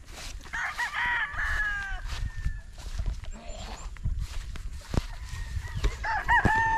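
Chickens and roosters at a farm crow loudly and repeatedly, with clucking and general barnyard noise beneath, fairly close and continuous throughout.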